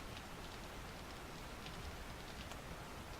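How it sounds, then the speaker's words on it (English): Steady, soft rain falls in a zombie survival video game, a continuous faint hiss of drops on surfaces with no voices over it. "Somehow those frames are keeping the rain out."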